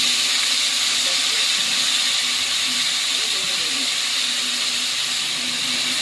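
Pointed gourd fries in hot oil with cumin seeds, a loud, continuous sizzle and hiss close by, with faint stirring sounds beneath.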